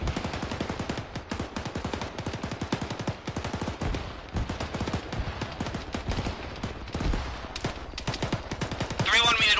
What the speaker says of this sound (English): Rifles engaging.